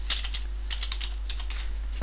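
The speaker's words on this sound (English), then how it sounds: "typing msconfig" Keys on a computer keyboard click out a quick, close burst of several keystrokes while a command is entered in Windows XP, with a low steady hum underneath.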